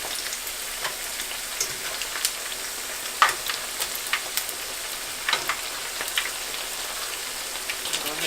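Senegalese meat pies fry in a pan with a continuous crackling sizzle of oil, dotted with sharp little pops and spits over a steady hiss, with no voices.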